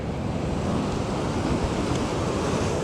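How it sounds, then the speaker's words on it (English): Ocean surf rolls steadily onto rocks at Scottburgh, a loud continuous wash of breaking waves with wind buffeting the microphone throughout. "These waves are also coming in."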